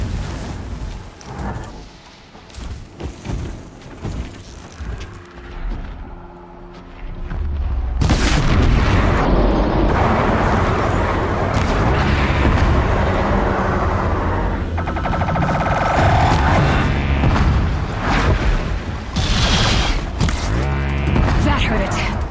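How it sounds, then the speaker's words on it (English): Distant explosions in a PS4 video game, low booming rumbles that swell into a sustained loud roar after a quieter opening. "Explosions in the distance."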